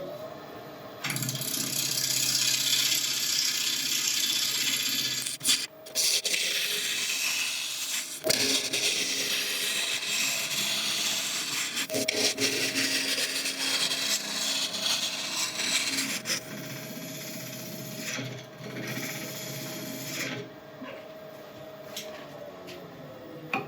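Boxwood blank spinning on a woodturning lathe at about 1000 RPM, with a steady broadband cutting hiss over a constant motor hum for most of the span and brief pauses where the tool lifts away.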